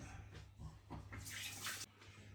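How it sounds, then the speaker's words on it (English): A kitchen tap runs while hands are washed after mixing fish for a curry, a soft continuous splashing stream that swells briefly before stopping, with no one speaking. "I'm just gonna wash my hands quickly."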